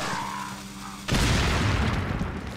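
A pipe bomb goes off in Resident Evil 4: Separate Ways, a sudden loud, deep boom after a quiet tonal stretch, followed by a rumbling, crackling tail that slowly fades.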